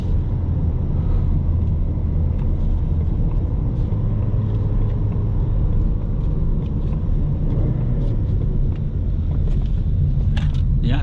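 A 2021 Ford Mustang with a 2.3-liter engine and six-speed manual cruising at about 50, giving a steady, continuous low engine and road rumble that fills the cabin with no one talking.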